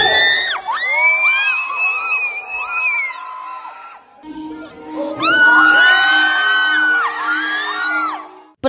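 A crowd at a K-pop idol's fan meeting screams and cheers wildly in loud, sustained high-pitched waves, dipping briefly before surging again even louder.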